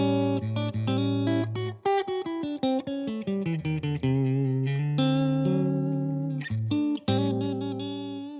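An electric guitar, a Nash S63 into a Benson Monarch Reverb amp, plays a run of plucked notes through a Mesh Audio Juice Jawn envelope filter pedal, with a filtered, sweeping tone on each note; close and clear, no talking.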